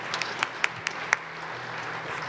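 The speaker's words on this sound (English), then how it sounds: "Give them a round of applause." School audience applauding at a middle school spring jazz concert, a soft, diffuse patter of clapping with a few sharper individual claps standing out near the start, steady and moderately distant, with no talking over it.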